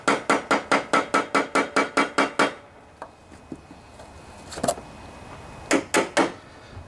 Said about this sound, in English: as I'm hammering.